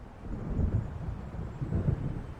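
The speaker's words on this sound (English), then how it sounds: "It seems there's a storm coming." Low distant thunder rumbles through a gathering storm in the Alan Wake video game, a deep rolling murmur with two slightly stronger swells and no voices.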